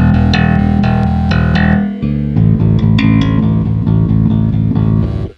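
Bass guitar run through a Nux NBP-5 preamp/DI pedal plays a rhythmic riff of repeated plucked notes, close and loud, with a brief pause midway as the blend knob is turned, shifting the tone.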